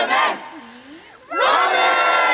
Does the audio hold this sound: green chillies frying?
no